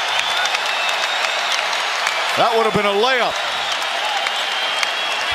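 Applause swells from the crowd at an NBA basketball game after LeBron James dives into the first row, with a commentator talking over the steady crowd noise.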